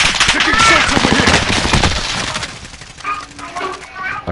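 Automatic gunfire from a Call of Duty Warzone match, loud rapid bursts filling the first two seconds, then fading as a voice talks over softer game sounds.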